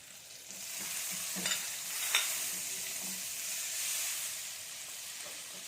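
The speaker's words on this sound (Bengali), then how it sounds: "প্রথমে আমি ফ্রাই প্যানে" Butter sizzles in a frying pan, a soft steady hiss with a couple of brief sharper crackles, fairly quiet and alone.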